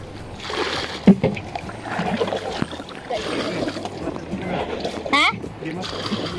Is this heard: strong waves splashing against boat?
yes